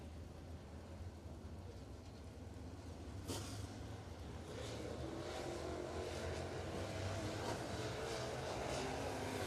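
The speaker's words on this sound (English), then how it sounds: "Here comes our Victory Lap Pro late models coming out on track for their hot laps." Victory Lap Pro late model race cars roll onto the track at Virginia Motor Speedway for hot laps, a continuous low engine drone that slowly builds as they rev and pass, distant and steady.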